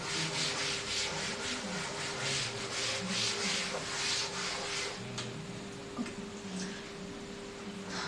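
Writing being rubbed off a classroom board in a steady, faint scrubbing rhythm with a soft hiss, over a low constant hum and no talking.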